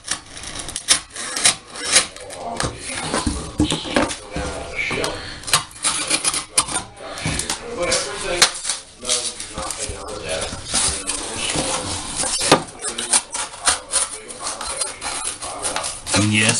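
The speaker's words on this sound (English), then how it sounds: "So let me trim that out. And I like to use my knife here." A knife trims material in close, repeated scraping and slicing strokes with a dry, rasping texture, continuing steadily without speech.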